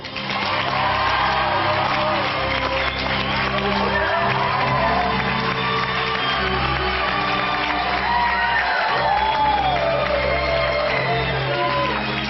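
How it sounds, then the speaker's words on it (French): A large audience applauds and cheers for Aishwarya Rai at a staged interview event, loud and sustained for the whole stretch with whoops, shouts and crowd noise layered over steady clapping, and a musical bed beneath. "Je vous demande d'applaudir Aishwarya Rai."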